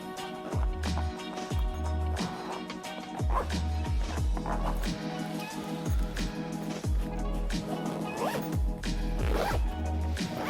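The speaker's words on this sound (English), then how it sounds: "We'll zip all of this up." Tropicfeel packing cubes are zipped shut with a rapid series of sharp, scratchy zipper strokes in quick bursts, close up and loud, repeating many times.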